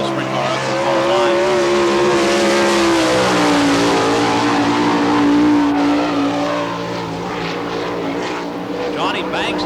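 A sprint car runs a qualifying lap on a dirt track at Barberville, Florida during an All Star Circuit of Champions Speedweek event, its engine droning loudly and steadily with a gradually shifting pitch, and a voice talking over it.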